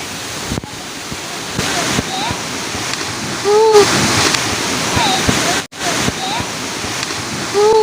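A waterfall rushes loudly and continuously while friends play in the water, with splashes, bursts of shouting and talk over the steady roar.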